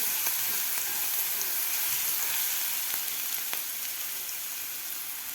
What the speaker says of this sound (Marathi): ठेचा आपल्याला थोडासा परतून घ्यायचा आहे